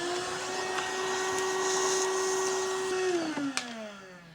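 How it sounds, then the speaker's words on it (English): Steady, loud vacuum cleaner whine sucking up metal drilling tailings from a wheel, running continuously before its motor pitch drops as it winds down near the end, with a sharp clack partway through. "I'm gonna go ahead and just vacuum up some of the tailings now to get them out of our way."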